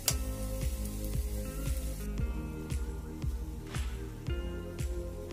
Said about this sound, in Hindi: और मैंने सिंघाड़े इसमें डाल दिए हैं